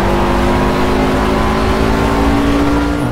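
Race car engine held at full throttle in Project Cars, a loud steady high-revving drone with a constant pitch, close and continuous for a few seconds with no voices.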